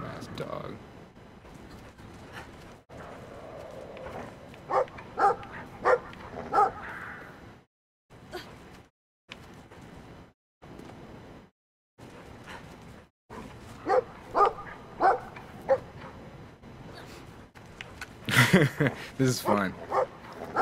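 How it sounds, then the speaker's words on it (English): In the video game Brothers: A Tale of Two Sons, a dog barks and yips repeatedly in scattered bursts, some loud and close, interspersed with someone talking and short silent gaps. "Dumbass dog."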